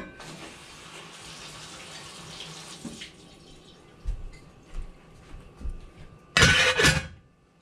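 A pot rinsed under a running kitchen tap: a steady gush of water for about three seconds, then scattered clunks and handling noises and a final loud splash of water, with no talking.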